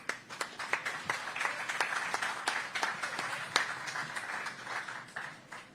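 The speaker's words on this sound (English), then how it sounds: "Let's start them off with a big round of applause." A small audience at a SuperMotocross post-race press conference in Concord, North Carolina claps in scattered, uneven beats, fairly faint and without talk.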